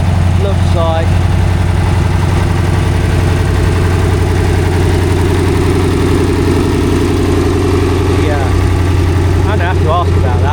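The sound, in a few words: Fordson Super Major tractor engine running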